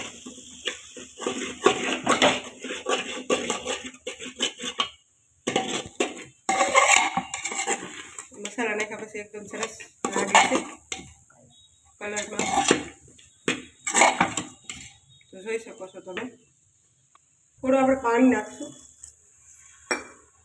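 A metal spoon clinks and scrapes against a pot while spices are stirred in for khichdi, repeated bursts of clattering stirring separated by short pauses, with a person talking in between.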